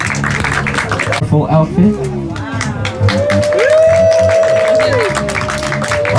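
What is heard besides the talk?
audience applause at fashion show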